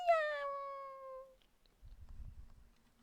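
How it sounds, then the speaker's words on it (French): A single clear cat meow that slides downward in pitch, followed by a quiet low rumbling noise. "C'est le retour d'un petit chat."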